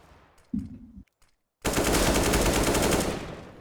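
Gunfire in Counter-Strike on the Cache map during a pro match: a brief burst, a pause, then a loud, sustained rapid volley of automatic shots lasting about two seconds.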